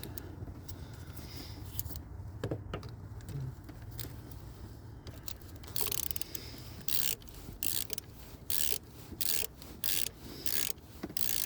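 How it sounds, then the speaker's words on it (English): A Matco gooseneck ratchet clicks during work on a 2008 Buick Lucerne, starting with faint mechanical handling and then settling into steady, close, rhythmic ratcheting strokes in the second half. "Out of all the regular ratchets I have, this is my favorite."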